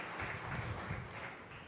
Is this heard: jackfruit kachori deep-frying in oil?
no